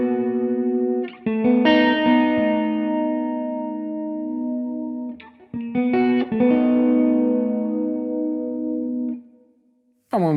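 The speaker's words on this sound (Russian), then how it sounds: "Так слышно, что этот самый Лесли эффект теперь стал интересным." TC Electronic Dreamscape guitar pedal in Leslie-style chorus mode, sustained electric guitar chords swirling with a rotating, warbling modulation, struck in three loud phrases with brief gaps, ringing alone without any voice.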